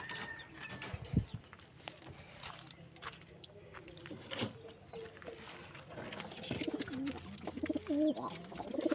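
Racing pigeons coo in soft, low repeated phrases toward the end of an outdoor loft recording, with scattered background knocks and shuffling noise throughout.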